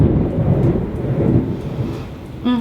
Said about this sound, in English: Because this storm is wild.